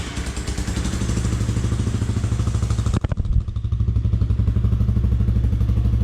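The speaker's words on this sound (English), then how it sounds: "I just wanted to show you guys how the bike sounds right now." A cheap motorcycle's stock engine runs without its exhaust silencer, a loud, steady, close idle with a rapid pulsing thrum and a brief clattering blip midway.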